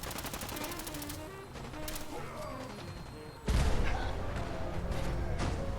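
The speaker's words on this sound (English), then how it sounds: "Where am I being shot from?" Rapid automatic gunfire in Fallout 4 on Survival mode, a fast rattling burst at the start, then scattered shots, followed by a sudden louder volley of heavy fire near the end; no talking.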